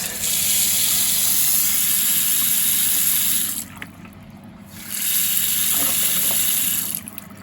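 Water gushes steadily from a tap, loud and close, cutting off briefly in the middle before running again, then stopping near the end; a low engine-like hum sits underneath.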